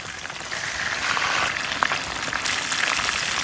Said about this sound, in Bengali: মাছের এক পিঠ ভাজা হয়ে গেছে, এখন উল্টে আর এক পিঠ ভাজতে হইবে।